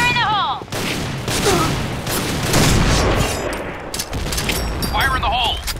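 Loud gunfire and a booming blast fill a video game firefight, with bursts of shots and a broad explosion rolling through the middle, while voices shout and radio-like chatter comes and goes.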